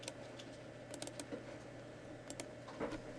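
Quiet clicking of a computer keyboard as a short file name is typed, a few small bursts of keystrokes separated by pauses, close and faint with no talking.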